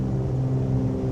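Big six-cylinder aircraft engines revving in Microsoft Flight Simulator, a steady loud droning rumble with a strong low hum, heard alone and close for a brief moment.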